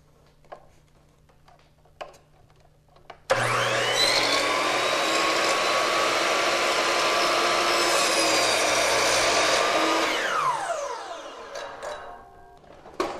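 Miter saw cutting an inside corner on a piece of wood molding: one loud, steady whine of the blade running through the cut for about seven seconds after a quiet start, then winding down.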